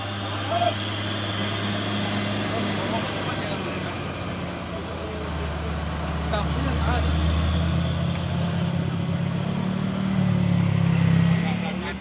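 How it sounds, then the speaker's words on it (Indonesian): A Hino single-axle truck engine runs steadily at low revs, a deep drone that swells slightly toward the end, with someone talking over it at times. "Truk Hino engkel ini ya"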